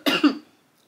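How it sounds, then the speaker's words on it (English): A single harsh cough from a person with a lingering 100-day cough, close and sharp with two quick bursts, then silence. "I've also got the 100-day cough."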